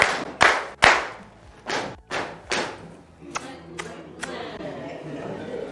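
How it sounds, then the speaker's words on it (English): A group of teachers at a school learning session performs a German clap: a series of loud, separated collective claps and thumps in an irregular rhythm, then looser scattered claps and murmuring voices. "It's called the German clap."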